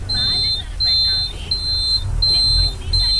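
A high electronic turn indicator buzzer on a Mahindra BS4 vehicle beeps in a steady repeating rhythm, about five evenly spaced pulses, over a low engine rumble.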